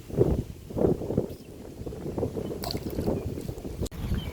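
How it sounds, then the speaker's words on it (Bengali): Strong, storm-like wind gusts buffet the microphone beside a village pond, heavy low rumbling blasts that surge and ease in uneven waves close up. "আজকে কিন্তু প্রচণ্ড ঝড়ের মতন হাওয়া।"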